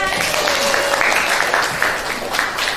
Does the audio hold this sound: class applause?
yes